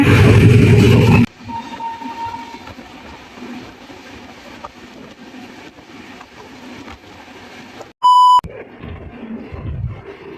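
A train passes at the Gulbarga railway station: a loud roar at first, then a lower rumble of rolling carriages, broken near the end by a short, piercing electronic beep.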